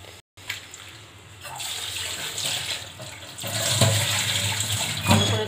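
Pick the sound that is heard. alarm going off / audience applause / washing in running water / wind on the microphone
washing in running water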